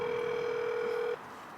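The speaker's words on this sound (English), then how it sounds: "We'll give him a phone call." An outgoing telephone call gives a single steady ring tone lasting about a second, then cuts to quiet line hiss, with no one speaking.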